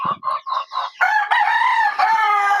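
Fayoumi chickens on a poultry farm give a quick run of rhythmic clucks, then a rooster lets out a loud, close crow that carries to the end.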